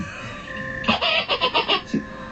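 A chicken gives a quick run of five or six clucks, close and clear, after a quiet stretch of faint background noise, with one more cluck trailing at the end.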